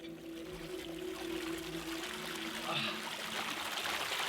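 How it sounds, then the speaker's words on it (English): A clean mountain river flows steadily nearby, a continuous rushing and trickling wash of water at moderate volume. "Just beautiful, clean river."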